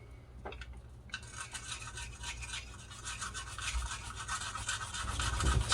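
A toothbrush scrubs rust off a GameCube part in quick, continuous rasping strokes that are close and steady and grow slightly louder toward the end.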